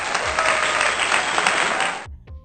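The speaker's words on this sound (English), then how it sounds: "we give a round of applause for this gorgeous hair?" Loud, dense applause after a boho knotless braids hair tutorial, continuous for about two seconds before cutting off, followed by a few faint scattered claps.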